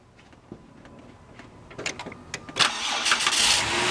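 A car engine cranks over during electrical diagnosis with a voltmeter, starting with faint clicks and building into louder, irregular bursts of starter and engine noise toward the end.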